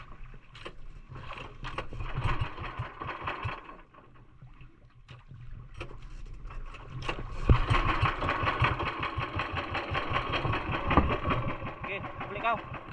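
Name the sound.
boat motor engine running while fishing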